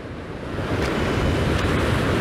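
Waves break and wash along Crosby Beach under strong wind, a continuous roaring surge with gusty rumble buffeting the microphone, loud and close throughout.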